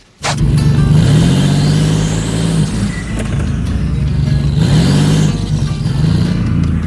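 A hot rod's engine revs hard close by, rising and falling through several throttle blips with a loud, rough roar and a rising whine of a turbo spooling up.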